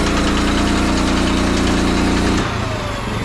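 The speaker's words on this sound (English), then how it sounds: "as this is going out, you're gonna hear a clicking noise. That's this right here. That's your safety mechanism, safety brake" A Böcher Junior 77 incline material hoist with scaffolding attachment runs with a loud, steady motor drone and a rapid clicking from its toothed safety brake, then the drone drops abruptly near the end.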